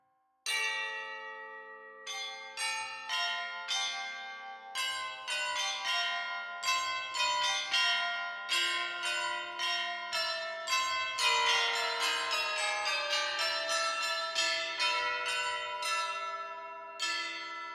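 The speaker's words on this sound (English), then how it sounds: "Yeah, this is the high bells." High tuned bells from the VSL percussion sample library strike one after another in a melodic run. Each clear, bright note rings on, and the notes overlap into a shimmering, sustained wash with no voices.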